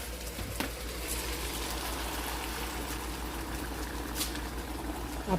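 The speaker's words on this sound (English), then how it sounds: "Then I'm going to add some water." Water poured into a pot of squash for a mung bean stew, a soft steady trickle and splash running continuously at close range, fairly quiet with a low hum beneath.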